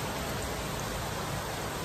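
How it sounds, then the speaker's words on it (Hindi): Heavy rain pours down steadily, a dense, even hiss of drops hitting surfaces throughout, with no voices. "ये देखो कितनी तेज बारिश हो रही है"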